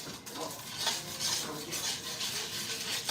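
Metal utensil scraping and clinking against the bottom of a pan of boiling liquid loosened with fond, a run of short scrapes and taps over a soft bubbling bed, no talk.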